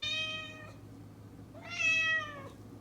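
A cat meows twice, alone and fairly quiet. Two drawn-out, clear cries come a second or so apart, the second slightly longer.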